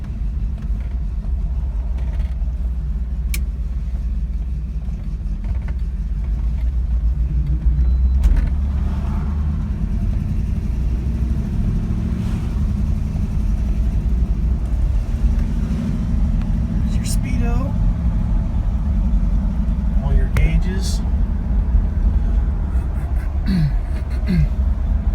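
A 1965 Buick Riviera Gran Sport on the road on a sunny day, its engine a steady low rumble under continuous road and wind noise for the whole stretch, with people talking over it.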